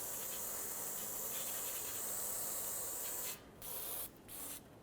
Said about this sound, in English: I'm gonna use some brake parts cleaner and just spray it down to ensure that there's no debris on it